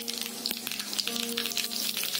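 Mustard and cumin seeds sizzling in four tablespoons of hot oil for misal, a close, steady crackle with quick popping spatters and faint stirring clinks.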